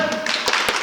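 A live audience at a 2020 performance event claps a bit harder, a dense spread of hands with a couple of distinct louder claps over the brief burst.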